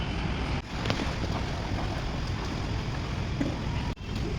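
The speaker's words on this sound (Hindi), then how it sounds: "बाहर गाड़ियाँ चल रही हैं, पानी यहाँ पे बहुत है" Broad, steady rushing wash of floodwater on a Chandigarh road as cars drive through, a continuous loud roar with brief dips, no voices.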